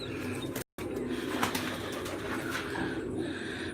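Domestic pigeons cooing in a backyard loft, a soft continuous murmur of coos mixed with rustling and broadband noise, briefly cutting out near the start.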